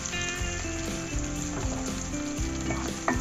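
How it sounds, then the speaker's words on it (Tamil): Onion, cumin and curry leaves sautéing in a pan for sambar rice, a close steady sizzle with spatula stirring and scraping, while background music plays underneath. "நான் ஒரு பெரிய சைஸ் வெங்காயம் கட் பண்ணி வச்சுருக்கேன், அதையும் போட்டு நல்லா வதக்கலாம்"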